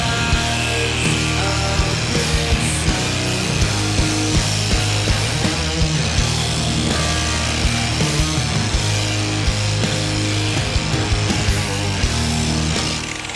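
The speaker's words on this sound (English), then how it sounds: "I'm just gonna do one final, last light polish to really bring out more depth and more gloss in this paint." A machine polisher working car paint in a final light gloss polish, a loud continuous whirring drone with rubbing texture throughout, no talking.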